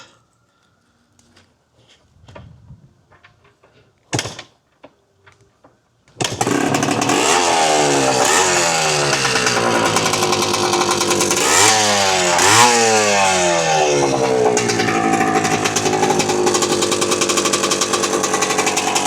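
A Yamaha IT 250 two-stroke barn-find dirt bike starts after a few quiet knocks and kicks, then runs loud and steady with a raspy, crackling exhaust and several rising revs.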